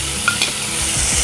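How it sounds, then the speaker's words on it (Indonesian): Coarsely blended chili sambal sizzles in hot oil in a pan while it is stirred, a steady close frying hiss with a few scraping stirs, no voices. "Setelah di blender kasar tadi, saya goreng dulu."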